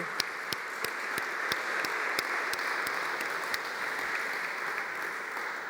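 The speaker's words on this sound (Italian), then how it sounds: "a cui io dedicherei veramente un applauso" An audience applauds a group of students at an Italian talk about food, with a steady wash of many hands clapping at moderate distance and a few sharper claps standing out, continuous for the whole stretch.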